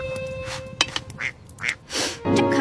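A plump duck quacks as it walks, giving several loud, raspy nasal quacks in an irregular sequence, close by, with no talking.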